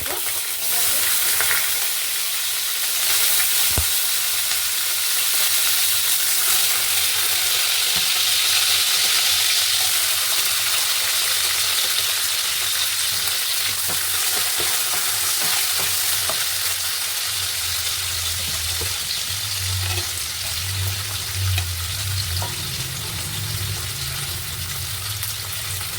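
Chopped vegetables for vegetable fried rice fry in hot oil in a pan, sizzling steadily and close-up. Repeated stirring and scraping sounds run through the whole stretch, with some low rumbling toward the end.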